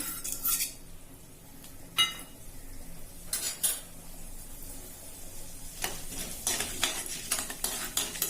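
Mustard seeds and urad dal crackle and sizzle in hot oil in a pan, with a few sharp scrapes and clinks of a utensil against metal; no voices.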